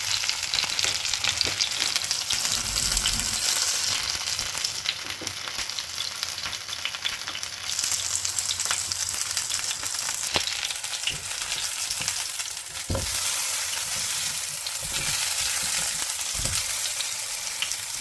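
Garden-fresh eggplant slices fry in oil in a pan for begun bhaja, a loud continuous sizzle with occasional crackles and soft stirring scrapes.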